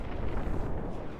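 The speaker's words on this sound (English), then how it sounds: "Explosions! Look out!" Booming explosions in the Kingdom Hearts 2 video game, a dense, continuous low rumble of blasts rolling together at steady loudness for the whole stretch, with no voices.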